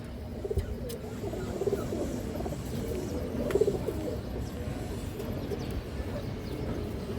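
A female feather-footed (boot-footed) pigeon at a bird farm coos in soft, repeated low phrases, close by, over a steady background hum with faint chirps.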